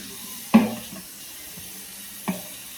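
Tap water splashes in a sink while rinsing broccoli and Brussels sprouts: two brief sloshing bursts over a quiet background, the first louder than the second.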